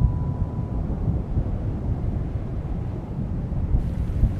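Steady wind blowing outdoors, a continuous low rushing roar with gusty swells and no voices, heard alone throughout.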